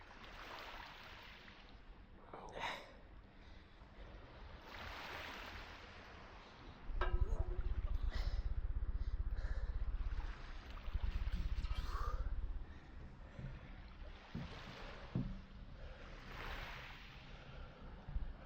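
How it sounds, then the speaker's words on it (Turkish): Sea waves wash and break in slow surges on the Marmaris shore in the evening, with a heavier rumbling rush midway, steady and moderately near. "Burada şarkı dinlenmez burada deniz dinlenir."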